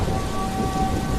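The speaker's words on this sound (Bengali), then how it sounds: "বাইরে সমানে পড়ছে বৃষ্টি।" Steady, loud rain pours down outside with a deep low rumble of thunder underneath, heard briefly as a dense, unbroken wash.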